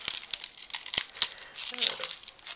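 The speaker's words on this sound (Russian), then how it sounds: "Берем полоску бумаги и обматываем, чтобы ниток не было видно" A strip of crepe paper crinkles and rustles as it is wound around the stem of a large paper wheat ear, giving close, uneven bursts of crackling throughout, with a faint voice briefly underneath.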